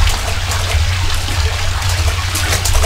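Steady running water fills a basement in the Cry of Fear video game, a constant loud rushing trickle with a low hum underneath and no pauses.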